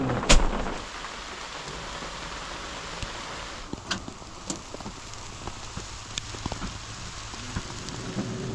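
Steady rain falls on long-dry ground at the end of a day of downpour, a continuous soft hiss with scattered sharper drop taps and a few louder knocks throughout.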